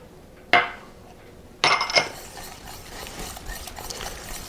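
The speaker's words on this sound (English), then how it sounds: "we're going to try to whisk that in as vigorously as possible into this mixture" Egg being whisked vigorously into sourdough brownie batter in a bowl, heard as two bursts of metal whisk clinking against the bowl followed by softer continuing stirring, close and with no voices.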